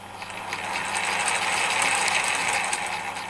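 A Clarke CMD300-type small milling machine runs in reverse with a steady, close mechanical whir and faint ratcheting gear chatter, holding at an even level throughout without any voices.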